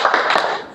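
Children in an Islamic religious education class give a short, sharp burst of group hand claps, lasting under a second, with no voices heard.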